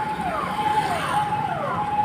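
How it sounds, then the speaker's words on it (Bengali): A police car siren wails in a steady, slowly wavering tone, loud and continuous from start to finish, with no talking over it. "এই হচ্ছে পুলিশের গাড়ি, ঠিক আছে।"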